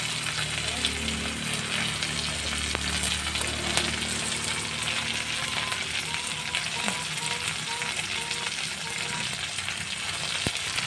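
Whole or chopped garlic cloves sauté in hot oil for an upscale-style vegetable wheat rava upma, giving a steady, close, continuous sizzle with a few faint stirring scrapes and no talking.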